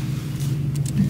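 A Honda car engine gives a steady, low, close hum throughout, with a slight swell near the end and no voices.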